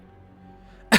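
A character in the video game Arknights gives one short, sudden cough at the very end, after a quiet stretch of low background hum.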